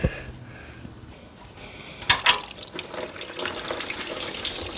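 Coolant gushes from a car radiator after the bottom hose is pulled, opening with a clank and then a splashing, pouring flow that builds and continues close by.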